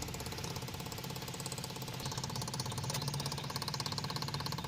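An electric fuel pump on a 4d56 runs during a pressure test, making a steady, close buzzing hum with a rapid pulsing chatter that grows slightly stronger toward the end.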